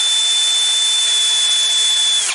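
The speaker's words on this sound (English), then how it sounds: "right now I'm making the hole a little bigger by pushing the drill bit on the side" A power drill enlarges a hole in a computer case, its bit pressed against the side of the opening. It gives a loud, steady high whine that holds for about two seconds, then cuts off abruptly.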